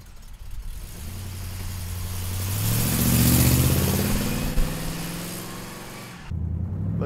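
A 1971 Pontiac Firebird with side exhaust drives by, its engine note building to a loud rumbling peak midway and then easing off, with a brief quieter idle-like tail at the end.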